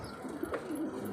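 A pigeon coos softly in a short burst, a low warbling call close by against quiet background noise, with no talking.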